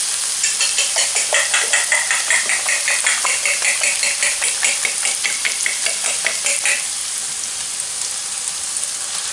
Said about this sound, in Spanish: Mientras vamos batiendo los huevos